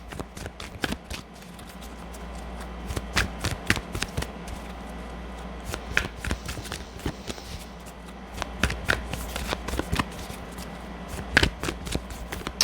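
Angels and Ancestors oracle cards being shuffled by hand, a quick run of crisp riffling flutters and soft slaps close up, repeating in bursts throughout.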